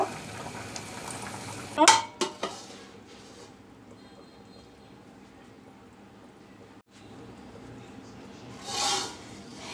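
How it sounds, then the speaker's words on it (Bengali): Pea lentil dal simmering in a pot with a low, steady bubbling hiss, broken near the start by a few sharp clinks and scrapes of a spoon stirring, then a soft swell late on. "মটরের ডাল ফুটে গেছে এবার ধনিয়া পাতা দিয়ে দিচ্ছি অল্প"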